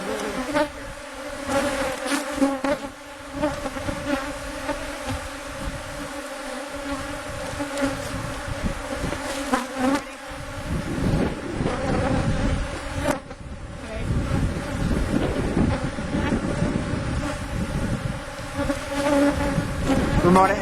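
Honeybees buzz around ranch beehives during an inspection, a dense steady hum close to the microphone, rising louder later, with some wind noise.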